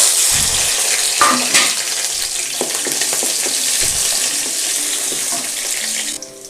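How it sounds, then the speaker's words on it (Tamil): Small onions and curry leaves sauté in hot oil in a pan, giving a loud, continuous sizzle with occasional stirring scrapes and clatters, with no talking. "வெங்காயம் நல்லா வதங்கிடுச்சு."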